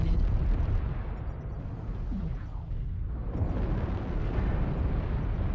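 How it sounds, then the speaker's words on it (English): Heavy, sustained rumbling blasts from an artillery strike in MechWarrior Online roll on continuously, loud and booming with overlapping impacts throughout. "Artillery strike activated."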